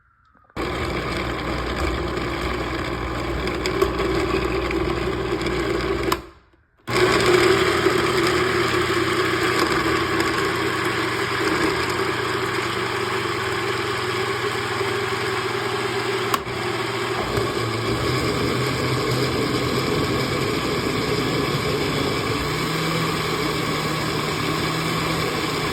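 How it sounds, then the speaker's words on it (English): Kitchen blender running continuously on carrots topped up with spring water, a loud steady motor whine and churning roar that cuts out briefly and restarts, with a slight shift in pitch as the thick puree loosens. "I'm gonna add some spring water and blend it."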